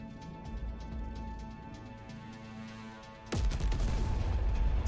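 Spaceship railgun and missile fire in the space strategy game Terra Invicta: a steady low rumble of weapons fire, then a sudden loud burst of sharp blasts that keeps the battle noise dense and heavy to the end.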